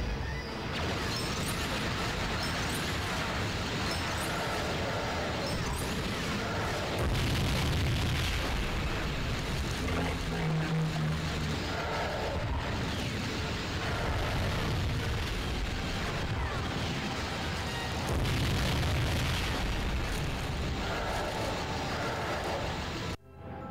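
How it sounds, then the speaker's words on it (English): Star Destroyers blowing up in Lego Star Wars II: The Original Trilogy, a sustained roar of booming explosions and crashing debris over the full stretch, loud and dense, swelling in a few places, with no talk. "Four Star Destroyers destroyed."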